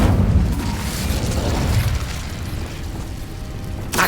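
The Incendio fire spell in Hogwarts Legacy ignites dry vines with a deep, roaring whoosh of flame that rumbles steadily for several seconds before a sharp burst at the end; no speech.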